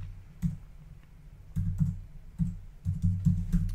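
Code is typed on a computer keyboard in short clusters of close, soft keystrokes, with quiet gaps between bursts.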